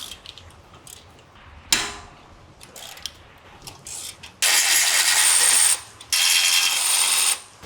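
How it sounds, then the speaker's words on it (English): A ratchet fitted with a T55 Torx bit loosens the brake caliper bolts on an Alfa Romeo Stelvio or Giulia, giving a short burst of clicks followed by two long, loud, close whirring runs of the ratchet. "Now we're gonna remove these two bolts right here, and we're gonna use this T55 Torx bit for that."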